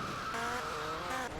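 A black TCJ car in GTA Liberty City Stories screeches along in a brief burst of skidding tyre squeal over a steady engine drone, loud and close, with no talking.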